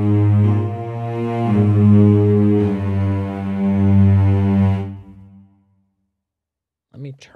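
Sustained low cello line from the Hyperion Strings Elements virtual instrument, rich in harmonics, swelling and holding for about five seconds before fading to silence, followed by a short unrelated burst at the end.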